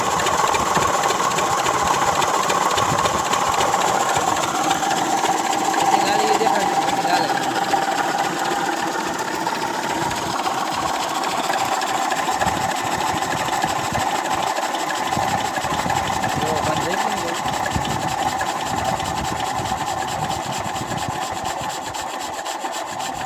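Automatic water pump machine running at a farm, a loud, steady mechanical hum with a rough, grinding texture that continues unbroken and close throughout.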